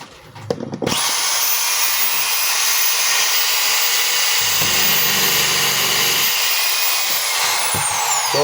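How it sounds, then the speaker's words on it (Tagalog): A DeWalt D25033 rotary hammer set to drill mode whirs steadily at close range for about seven seconds after a brief start, with a continuous high motor whine and no speech. "So okay yung drill niya mga kabay."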